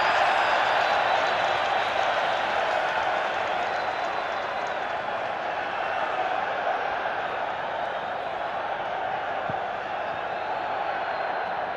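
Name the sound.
stadium crowd cheering at rugby match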